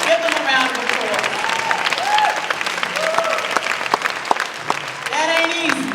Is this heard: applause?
yes